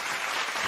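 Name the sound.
clapping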